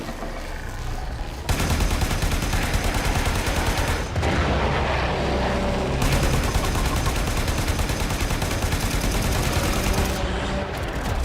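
Sustained rapid gunfire and blasts in the sci-fi shooter video game Warframe form a dense, loud barrage broken by brief pauses, with no talk.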